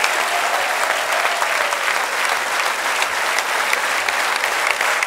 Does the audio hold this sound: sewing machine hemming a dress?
no